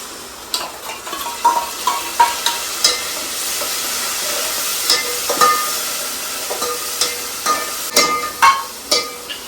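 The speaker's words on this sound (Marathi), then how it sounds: "अद्रक मिरची लसूण आणि कोथिंबीरची पेस्ट केले ही टाकू आपण" A paste of ginger, green chili, garlic and coriander sizzles in a hot pan, with a constant bright hiss and repeated sharp clinks of a spoon stirring against the metal; no speech is heard.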